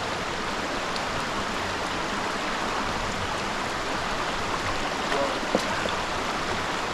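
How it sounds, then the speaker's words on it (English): Little Wilson Creek flows over rocks at a river ford in wilderness, a constant, full rushing and babbling of water that stays even throughout with no talk. "We have our first river crossing, or a river ford."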